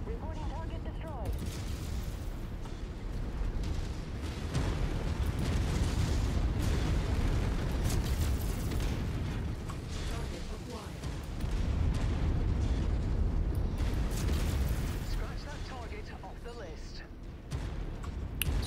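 Explosions of destroyed targets in the mech combat game MechWarrior 5, a dense, continuous barrage of booming blasts and gunfire rumbling loud throughout, with voices talking over the din.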